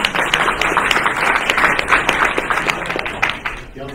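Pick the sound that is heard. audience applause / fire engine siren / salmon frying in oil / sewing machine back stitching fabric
audience applause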